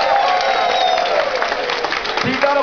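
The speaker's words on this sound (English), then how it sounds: "Keep that applause a-coming for your waiter and waitresses." Diners in a cruise ship dining room applaud the junior waiters and waitresses, a steady wash of clapping and crowd noise with a raised voice carrying over it and a low tone near the end.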